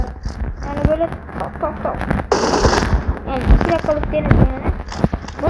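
Newly modded gun in a video game firing sharp bursts of shots, which rise to a dense crackling volley midway, under steady close talking.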